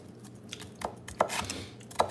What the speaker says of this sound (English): So I'm chopping bell peppers.